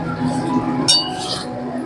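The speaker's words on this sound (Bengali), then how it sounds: "এবার আমি একটু ঢাকা দিয়ে দিলাম।" A lid clinks onto a cooking pot of simmering fish curry, one brief metallic chink in the middle of the clip over faint kitchen background noise.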